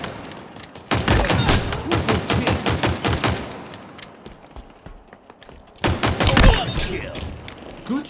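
Pistol fire in a Halo Infinite multiplayer match: rapid, sharp shots in a long volley, a quieter lull, then a second close burst of shots near the end.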